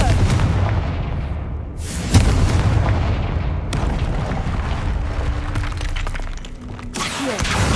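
Confringo blasting spell from the Hogwarts Legacy video game: loud, dense booming explosions and crackling blasts follow one another almost without pause, with a few sharp breaks between bursts.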